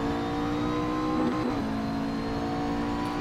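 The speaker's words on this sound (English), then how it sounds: "Lamprecht hitting the rev limiter there." A race car in a sim racing game at Laguna Seca holds a high, buzzing engine note that hits the rev limiter with a brief stuttering break in the middle, loud and continuous throughout.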